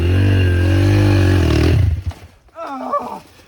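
Small motorcycle engine held at a loud, steady throttle close by, then cutting out abruptly, followed by a brief burst of higher revving with voices shouting.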